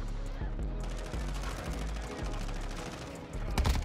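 A Cronen Squall rifle in Modern Warfare II fires a steady stream of rapid, evenly paced shots, a dense automatic rhythm over several seconds with some faint mechanical clatter mixed in.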